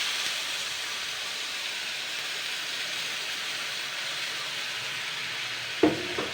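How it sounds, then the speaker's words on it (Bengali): Spice paste cooks in hot oil left from frying fish, making a steady, close sizzle throughout, with a sharp clatter near the end. "তো দেখুন আমি কিন্তু মাছ ভাজার তেলে কিন্তু এই পেস্টটা দিয়ে দেবো।"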